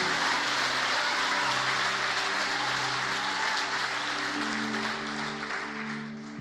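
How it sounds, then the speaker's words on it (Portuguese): Church congregation applauding during a worship service, a dense, even wash of clapping over held keyboard chords, steady throughout and tapering slightly at the close. "Dê um aplauso a Ele."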